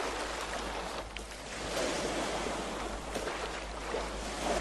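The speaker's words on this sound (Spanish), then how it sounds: "Aquí en la isla, el mar." Sea waves wash against an island shore in a continuous broad roar, swelling and easing slightly, with some wind buffeting and no voices.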